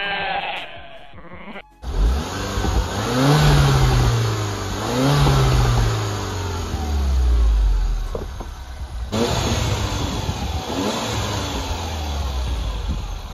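Mini Cooper S engine revving repeatedly, loud and close, with several rising and falling sweeps of engine pitch over a steady running drone, no talking.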